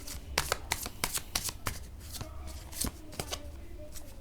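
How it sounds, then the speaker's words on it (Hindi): Playing cards being shuffled by hand at close range: a series of quick riffling bursts in an uneven rhythm, with soft slaps between them, fairly quiet. "चलिए कार्ड्स की शफलिंग शुरू करते हैं"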